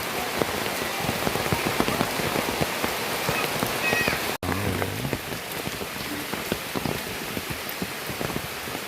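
Rain falls steadily on surfaces in a tribal village, a dense even patter throughout with one brief dropout, and a faint cat-like call sounds briefly in the background.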